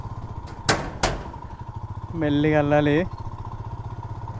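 A motorbike rides over a suspension bridge above a river near Jog Falls, its steady mid-range engine drone running throughout with two sharp thuds early on and a brief tonal swell in the middle, while a rider speaks over it.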